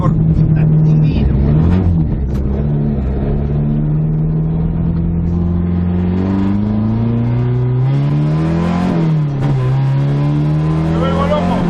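A Renault 18 rally car with a short-ratio gearbox revs hard and close, its engine note climbing and dipping through repeated rises in pitch under continuous loud roar, with voices talking over it.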